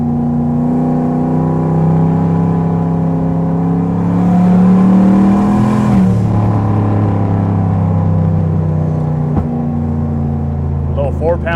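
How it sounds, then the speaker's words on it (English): A single-turbo Chevy Silverado engine hums and revs steadily up close, rising then settling, with a few faint sharp wastegate pops near the end. "a few little pops from the turbo, from the wastegate"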